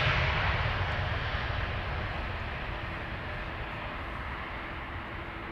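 Jet engines of an Airbus A330 at Amsterdam Schiphol Airport, a steady broad roar with low rumble that fades slightly over time, heard alone without talk.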